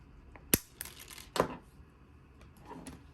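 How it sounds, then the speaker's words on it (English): Wire cutters snip through thick jewelry wire for a rock necklace, giving two sharp, close metallic clicks about a second apart, with faint handling noises around them. "I'm going to take a good amount of my thicker wire, probably enough to wrap around my fist, and I'm just going to go ahead and snip that."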